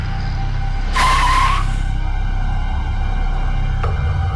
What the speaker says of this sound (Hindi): हमने कहा ना गाड़ी रोको।